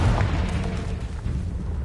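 A Confringo spell explosion in Hogwarts Legacy lands as a short, loud, booming blast with a heavy low rumble that fills the brief moment.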